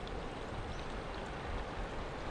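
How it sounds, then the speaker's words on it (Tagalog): Heavy rain approaches, an outdoor wash of dense, steady rainfall hissing evenly without pause across the whole moment, loud and broadband with no voices. "Papalapit na po sa atin ang ulan"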